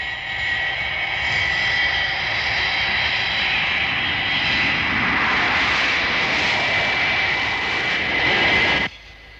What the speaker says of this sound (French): Ce décollage était en tout point remarquable